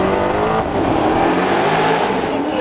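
A Bugatti Veyron accelerates hard, its engine roaring loud and close with a continuous rising rumble and whine that stays strong throughout.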